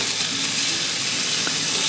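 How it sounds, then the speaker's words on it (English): Steady sizzling of food frying in a pan for pasta carbonara, a continuous close hiss with no talking. "Get a nice sizzle going on in here."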